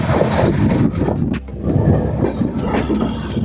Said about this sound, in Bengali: এখন আমাদের ট্রেন একদম স্লো করে দিয়েছে 10 থেকে 20 কিলোমিটার স্পিডে, কারণ এই বিশাল ব্রিজের উপরে আমাদের ট্রেন